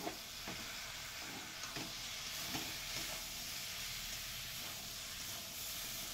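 Taro stolons (kochur loti) frying in spice paste with dried chilli powder in a pan, a continuous close sizzle and hiss with a few soft stirring knocks scattered through.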